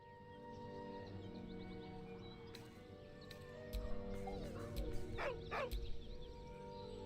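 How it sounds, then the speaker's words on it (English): A dog whines in a video game set in the Emerald Grove, a drawn-out mournful whimper rising over a steady bed of game music and ambience, clearest toward the end. "With a deep, heartbroken whine, the dog bows his head"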